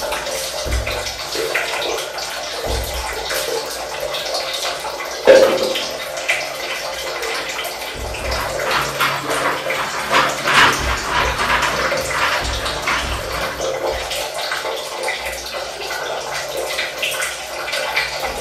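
Hot water pours into a liquid in a continuous splashing, gurgling stream, close by, with a brief knock and a voice speaking softly underneath.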